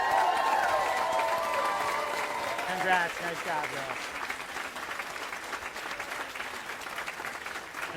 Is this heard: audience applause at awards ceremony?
yes